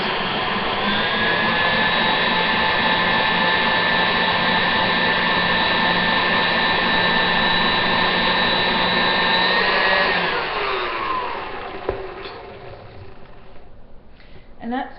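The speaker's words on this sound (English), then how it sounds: "I'm going to give it a quick stir again, so it's all nice and" An electric mixer whirring through cake icing, a loud steady high-pitched motor whine that holds for about ten seconds, then winds down and stops, leaving a few faint clatters.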